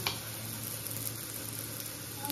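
Steady, dense sizzle of soybean kofta deep frying in hot oil, continuous and close, with no talking.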